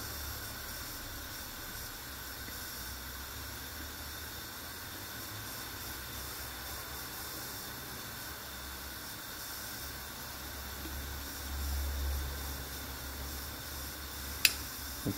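Beer wort in a brewing pot starting to boil, a steady faint hiss like rising steam that holds evenly throughout, with a single sharp click near the end.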